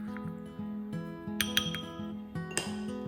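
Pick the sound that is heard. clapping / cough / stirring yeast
stirring yeast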